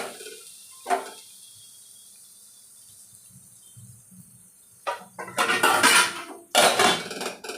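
A metal lid clatters onto a pan of fish masala being covered over low heat, with a few sharp clanks and rattles of cookware after quiet moments, close and fairly loud.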